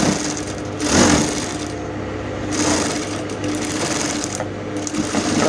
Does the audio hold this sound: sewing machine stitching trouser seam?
yes